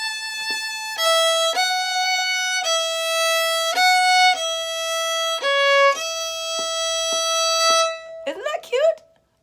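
A string instrument plays one line of Lil' Liza Jane, a sequence of sustained bright notes moving step by step, close and clear, ending in a brief scrape and noise.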